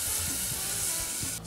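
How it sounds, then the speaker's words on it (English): Canned beans with oregano and a pinch of chili flakes frying in a pan, a steady close sizzle and crackle that runs the whole time with no voices. "Now that's sizzling away nicely."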